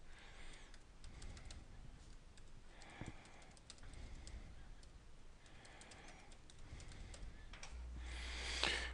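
Keys clack faintly on a computer keyboard in a classroom setting, soft intermittent taps under a low background hum with a voice speaking quietly nearby.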